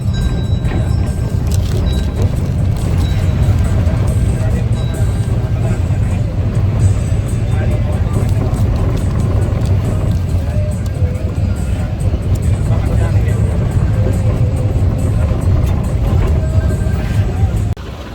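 Inside a crowded bus travelling through Sri Lanka, a loud, steady engine and road rumble drones without break, with faint rattles over the deep hum.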